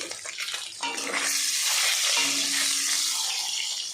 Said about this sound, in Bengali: ডিমটা একটু ভেজে নিলাম